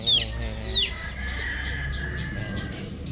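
Chicks on a farm range giving two sharp high peeps near the start, with faint chirps behind and low farm background noise.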